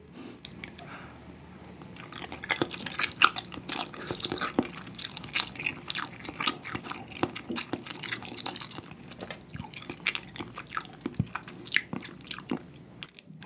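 Spam ham from a budae jjigae stew being bitten and chewed up close, with moist, squishy mastication and small crunchy clicks repeating steadily, no talking.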